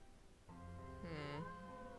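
A cat behind a hidden door in the Nancy Drew game lets out a single drawn-out meow that rises and falls, clear and fairly close against a quiet background.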